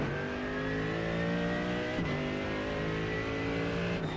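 A Mercedes AMG race car in iRacing accelerates out of the pit at the Nürburgring, its engine rising steadily in pitch through a gear with a quick upshift midway and another near the end, loud and close with no speech.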